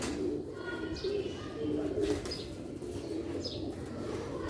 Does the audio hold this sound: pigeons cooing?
yes